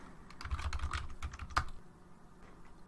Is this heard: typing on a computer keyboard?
yes